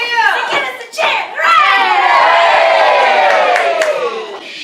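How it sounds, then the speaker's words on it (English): A pantomime audience of children and adults bursts into loud, sustained cheering and shouting, swelling after a brief dip and holding strong throughout. "Give us the cheer!"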